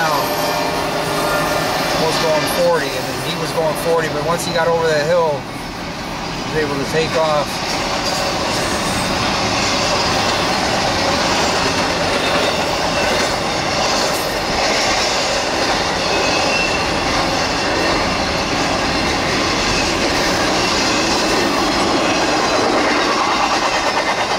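Norfolk Southern 28B freight train rolling past at length, a loud, continuous rumble of wheels and cars with squeals and clickety-clack over the rails, nearby and dominant throughout.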